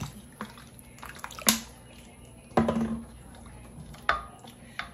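Water poured into a Tongan watermelon drink made with half and half, several separate splashy pours and trickles, each a sharp liquid burst fading into dripping, close and moderately loud.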